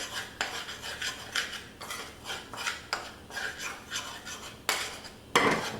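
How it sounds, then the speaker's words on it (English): Flour cooking in butter for a roux, stirred in a pot with repeated rhythmic scraping strokes of a utensil against metal, close and fairly quiet, with a sharper clink near the end and no talking. "I cook my flour in the butter"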